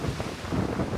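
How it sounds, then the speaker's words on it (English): Strong hurricane wind gusts during Hurricane Florence on the North Carolina coast, a loud roaring buffet of wind against the microphone, continuous and close. "the wind gusts right now are upwards of 50 miles per hour"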